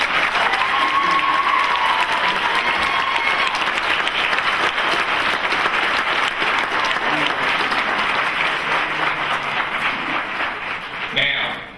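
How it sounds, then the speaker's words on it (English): A graduation ceremony audience applauds in a dense, sustained wash of clapping that holds steady throughout before tapering off at the very end. "Let's give them a round of applause."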